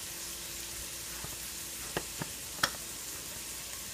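Onions sizzling in a pan, a steady close fry hiss with a few soft clicks as they are stirred.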